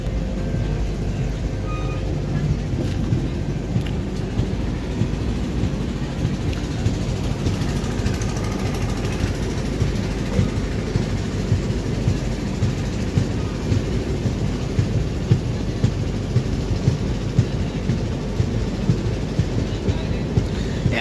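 Ganga Sutlej Express rolling along the rails, a steady dense rumble with faint rhythmic clatter throughout, continuous and moderately loud from inside the carriage.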